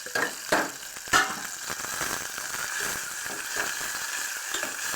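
Onions sizzle and fry in a pan for a dry prawn and drumstick curry, a steady close crackle broken by a few sharp stirring scrapes near the start, with no talking.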